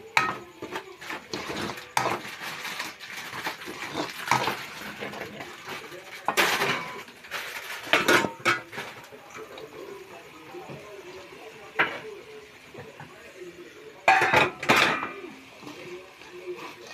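A spatula stirs and chops kottu roti in a pan, making irregular metallic clacks and scrapes over a continuous low cooking noise.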